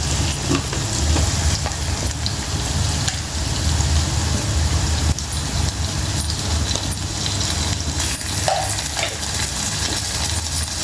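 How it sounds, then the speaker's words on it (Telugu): Ginger garlic paste frying in a pan for a bottle gourd curry: a steady, dense sizzle with light stirring scrapes throughout, close and continuous, with no talking. "ఇప్పుడు మనం కొంచెం అలవెల్ పేస్ట్ వేద్దాం"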